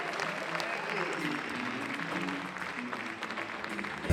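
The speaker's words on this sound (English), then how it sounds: "Appreciate the applause" Sustained audience applause at a university foundation anniversary celebration as the host is welcomed, a broad steady roar of clapping with some crowd murmur mixed in, holding level throughout.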